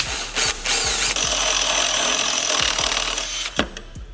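A power drill grinds steadily through metal, enlarging holes in a car hood. The loud, continuous whirring runs close by for about three and a half seconds, with a brief lull near the start and a sharp bump as it stops.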